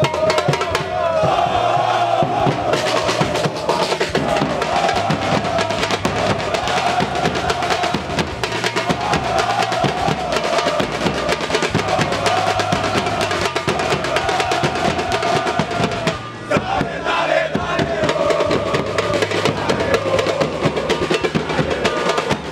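Cruzeiro football supporters celebrating the 50th anniversary of the Mineirão stadium against Figueirense, a loud dense crowd roaring and chanting in unison, sustained and rhythmic throughout with a brief dip partway, heard as a massed stadium chorus.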